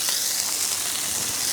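Ice cubes hissing and steaming on a hot griddle under a dome, a steady bright sizzle held throughout a short moment.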